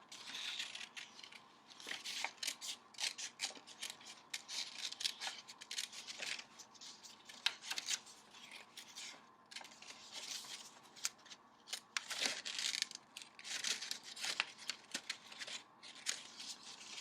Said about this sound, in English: I'm going to cut out my fork.